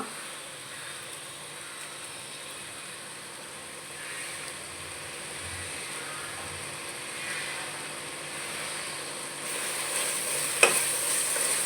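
Yogurt sizzling in a frying pan for egg biryani with capsicum, a soft steady fry hiss that slowly builds and ends with a small clink.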